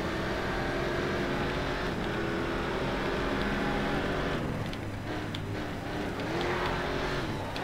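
Race cars in the Race Driver Grid video game, including a Porsche, on an endurance race, with a steady loud engine drone and shifting revs throughout, no speech over it.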